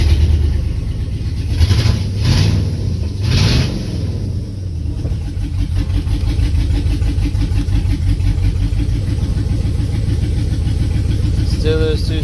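A Gen4 5.3 V8 fitted with a turbo runs with a misfire on two cylinders, a steady close rumble with uneven pulsing, while people talk over it.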